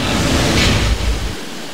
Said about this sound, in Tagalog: Tila walang hanggang pagpaypay ng mga puno at malakas na ulang sumasabay sa pagtagpoy ng hangin.